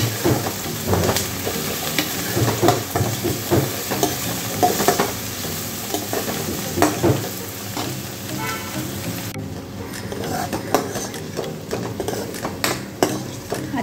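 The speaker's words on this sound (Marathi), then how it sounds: "आता यात मी टमाटो टाकला, परत 1 मिनिट हे परतून घेणार आहे" Tomatoes sautéed with mixed vegetables, cabbage and capsicum, in a pan over a medium flame, producing a close, continuous sizzle broken by repeated spatula scrapes and stirring knocks, the stirring easing into a softer, steady sizzle toward the end.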